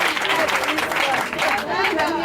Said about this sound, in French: On acclame puissamment le Seigneur Jésus.